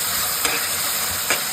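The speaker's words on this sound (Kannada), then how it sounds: "ಸ್ವಲ್ಪ ಅರಶಿನ ಆ್ಯಡ್ ಮಾಡಿ, ತಿರ್ಗಾಡಿಸ್ತಾನೆ ಇರಬೇಕು ಅದನ್ನು ಸ್ಪೂನಲ್ಲಿ." Spoon stirring tomato masala with turmeric in a pan over steady frying hiss, with two brief scrapes standing out in a short stretch and no voices.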